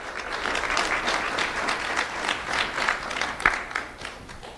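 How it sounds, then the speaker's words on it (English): Steady applause from a crowd, a dense wash of many hands clapping continuously at moderate volume, with one sharper clap standing out near the end. "Let's have a round of applause for Zoe Estrada."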